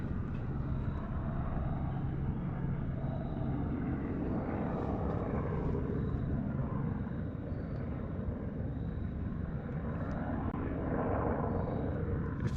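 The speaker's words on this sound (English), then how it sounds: "Helicopter with weird hoops around it." Helicopter carrying two hoops suspended on cables flies overhead, a steady, continuous engine and rotor drone at moderate distance that holds evenly throughout.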